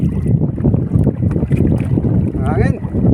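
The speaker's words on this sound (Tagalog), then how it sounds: "kuhan tayong takbo ng bangka." A small rowing boat (bangka) moves across the water in wind, with steady low rumbling wind buffeting the microphone and splashing from the hull throughout.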